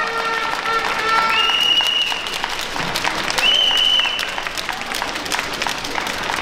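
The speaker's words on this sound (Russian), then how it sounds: "Аплодисменты парам." An audience at a ballroom dance competition, the Capital Cup in Minsk 2019, claps in steady, sustained applause for the dancing couples, loud and continuous throughout, with a couple of brief high whistle-like tones rising above it.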